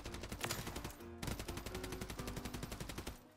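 Rapid automatic gunfire from a gun being tested at the firing range in the video game Warzone, loud bursts of evenly spaced shots with a brief pause near the middle.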